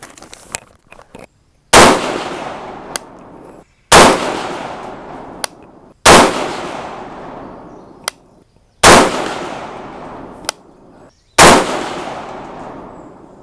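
Five loud 6.5 Grendel rifle shots firing 120-grain Speer Gold Dot handloads over 27.2 grains of AR-Comp powder, each sharp blast spaced about two seconds apart with a ringing decay, no talking.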